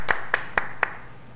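Four sharp, evenly spaced hand claps close to the microphone from people applauding at a hearing, each ringing briefly and then fading into quiet room tone.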